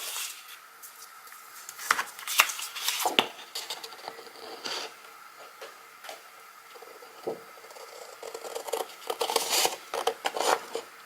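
Scissors cut paper traced around a chipboard plate in a series of close, crisp snips and rustles, with irregular pauses between cuts and no talking.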